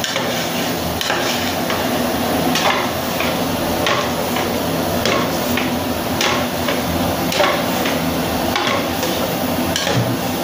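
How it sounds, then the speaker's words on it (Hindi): Dal mash roasts in a pan over a medium-high flame, a steady close sizzle broken by repeated knocks and scrapes of a spoon against the pan. "अभी मीडियम हाई फ्लेम के ऊपर हम दाल को अच्छी तरह से भून लेंगे।"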